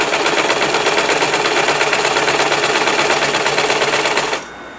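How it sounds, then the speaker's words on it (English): A sewing machine stitches a petticoat in one continuous, fast, even mechanical whir at close range. It runs steadily for over four seconds, then stops abruptly, leaving a faint room hum. "the way your sewing machine is situated can affect how it pulls"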